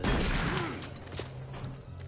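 Booming burst of video game shotgun fire at the start, heavy and loud, then a dull rumbling tail fading through the rest of the brief moment.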